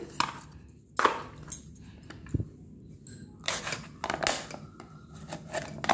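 A Horlicks packet being cut open with a knife or scissors, giving a few short, sharp, crisp snips and rustles spaced out over several seconds, close and fairly quiet.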